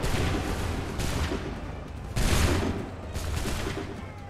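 Musket volleys in the Assassin's Creed 3 video game, three loud rolling fusillades about a second apart, each a dense crackling blast that swells and decays, close and dominant with no talk over them.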